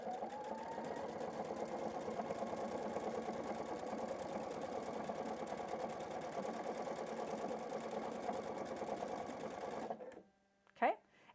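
A sewing machine stitches ribbon onto fabric with a steady, rapid mechanical whirring that runs for about ten seconds and then stops, followed by a short quiet spell and a brief voice.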